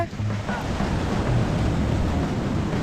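Sea waves surge and wash with wind buffeting the microphone, a broad roaring rush up close, with a voice faintly under it.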